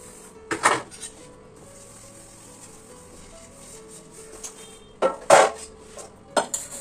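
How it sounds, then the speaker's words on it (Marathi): A few pots and utensils are scrubbed and handled at a home sink, with three distinct clanks of metal dishes separated by quieter rubbing and a low background hum. "पटकन आता 2 भांडी ती घासते"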